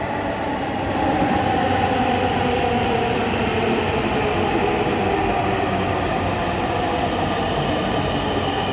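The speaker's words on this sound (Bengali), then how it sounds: "এই যে অলরেডি আমাদের ট্রেনটা চলে আসছে। এই যে চলে আসলো, এখন এসে আমাদের এখানে থামবে," A Dhaka metro rail train pulls into the station, its loud, continuous rumble and rail noise filling the space close by, steady from start to finish.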